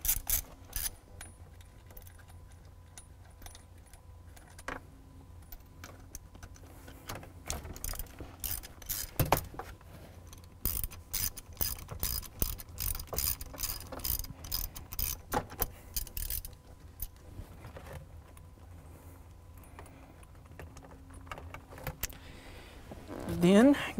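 Ratchet socket clicking in short bursts while two bolts come out of a Fox Body Mustang center console, close up and fairly quiet, with someone talking over parts of it.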